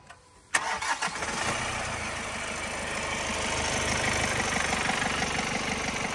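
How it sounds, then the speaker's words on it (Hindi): A Kia Seltos HTX+ diesel SUV with about 100,000 km on it cranks briefly, catches and settles into a steady, close idle with a slightly rising clatter. "ओम भाई एक बार इंजन ऑन करना"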